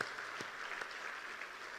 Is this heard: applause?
yes